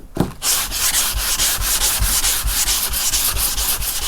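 A car body panel on a 1987 Chevy Caprice sanded back to remove guide coat and 80-grit scratches, a steady loud rasping scrub in quick repeated back-and-forth strokes, close up and with no voices.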